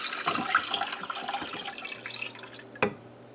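Water is poured for boiling Mauby concentrate, a quiet close splashing trickle with small drips, ending in a brief sharper splash.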